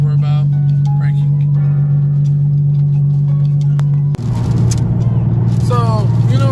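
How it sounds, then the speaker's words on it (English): Loud cabin noise inside a car while driving, with a steady low engine drone that shifts abruptly partway through into a rougher, louder roar. "sitting inside the car when I'm driving, it's really loud"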